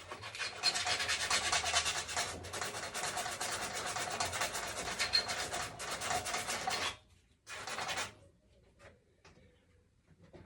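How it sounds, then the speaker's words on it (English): Magnets on top of a flywheel being sanded by hand, a close, steady rasping rub that runs continuously for several seconds, stops briefly, resumes in a short burst, then gives way to near silence. "the magnets on the top of the flywheel, I'm just going to give them a quick sand over"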